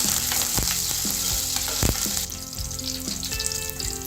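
Curry leaves and coriander hit hot oil in a pan for a brinjal and chana dal curry, giving a loud, close, continuous sizzle with a few sharp crackles and no talk.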